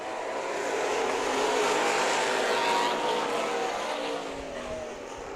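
Super stock race cars roar together on a speedway oval at a green-flag restart, a dense continuous engine drone that swells and then gradually fades as the pack moves away.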